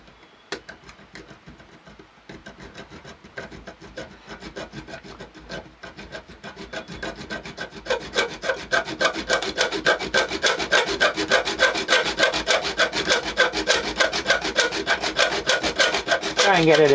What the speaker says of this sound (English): you can try a hacksaw first and see how that works for you